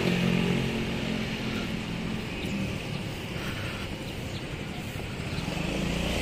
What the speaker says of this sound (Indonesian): Tiga orang deh naik motor.